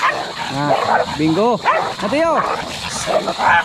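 Several dogs on a Filipino goat farm bark and yelp in short, excited bursts, loud and close, while someone talks and calls out over them outdoors.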